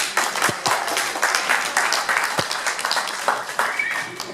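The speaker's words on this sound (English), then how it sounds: "I think we need another round of applause for Brenda." At a chapel music night, the audience breaks into another round of applause for singer Brenda, loud, close clapping with a few sharper individual claps standing out.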